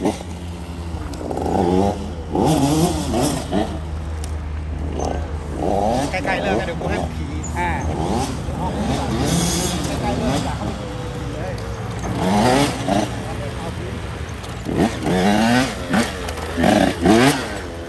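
Motocross motorcycle engine revving and roaring around a dirt track, rising and falling as the throttle opens and closes, with a steady low drone and people talking over it throughout.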